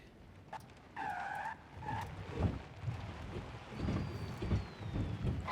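Tires skid under hard braking as a car slides in the Forza racing game, a continuous rough rushing noise with engine tones, loud and close throughout.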